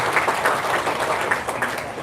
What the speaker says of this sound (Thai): ขอเสียงปรบมือให้กับทีมกรรมการในวันนี้นะครับ